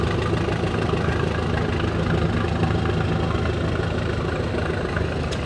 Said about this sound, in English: And probably a tractor a lot of people never heard of, a 1957 Minneapolis Moline by Mr. Team.